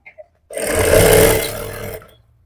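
A sewing machine stitches a salwar waistband, running in one steady loud burst of about a second and a half after two faint clicks, then stopping.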